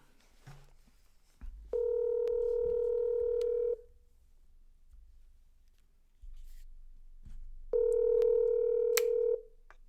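Two steady tones of a phone call ringing out on speakerphone, each lasting about two seconds with a pause between, clear over a quiet room.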